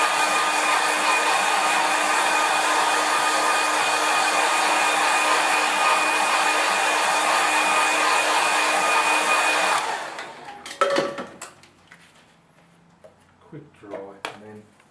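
Hair dryer quick-drying a watercolour landscape painting, a loud steady whine for about ten seconds that then cuts off, followed by faint handling sounds and speech.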